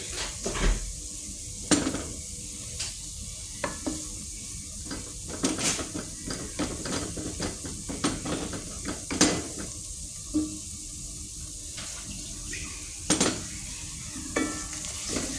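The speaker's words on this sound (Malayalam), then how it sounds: "മഞ്ഞൾപ്പൊടി ഇട്ട് ഒന്ന് വഴറ്റുക" Turmeric powder stirred into a pan of sautéed tomato for a Kerala-style chicken curry, with a steady sizzle broken by repeated spoon scrapes and clinks against the pan, close and alone.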